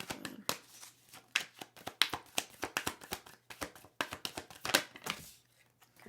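Tarot cards shuffled and drawn by hand, a rapid run of crisp riffling slaps and taps close by, bunched in quick bursts with brief pauses between them.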